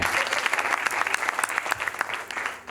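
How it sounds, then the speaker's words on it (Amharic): An audience applauding, a dense burst of hand claps that holds steady and close, then thins slightly near the end. "ጭብጨባ አጨብጭበዋል።"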